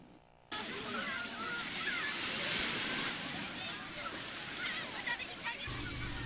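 Surf rolling onto Lampuuk beach in Aceh Besar, a steady wash of ocean waves sloshing and breaking close by, continuous and fairly loud throughout.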